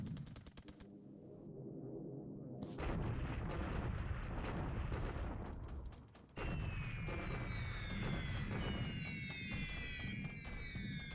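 Bombing explosions in the naval war game War in the Pacific Admiral's Edition fill a loud, continuous barrage of rumbling blasts and rapid crackling fire, briefly dipping before resuming with sweeping, whistling tones layered over the din.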